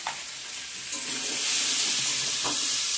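Spices fry in oil with turmeric and salt for a fish curry with radish and potato, a close bright sizzle that swells and hisses louder midway, with a couple of soft stirring knocks.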